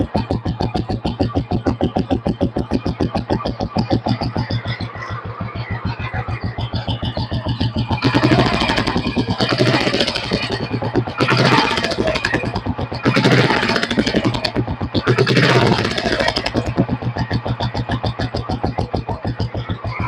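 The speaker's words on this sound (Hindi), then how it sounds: "we'll kick start the bike, not electric start" Royal Enfield Bullet 500 single-cylinder motorcycle, kick-started and then idling in a steady, loud, close thump, with several short throttle blips that swell the engine's roar.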